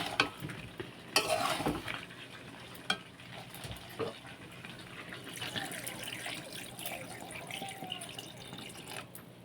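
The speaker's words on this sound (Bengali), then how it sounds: "তো চলো জলটা দিয়ে দিই।" Water is poured into a pan of braised mutton, bursting into loud spitting sizzle and splashing, followed by steadier bubbling and stirring scrapes at close range.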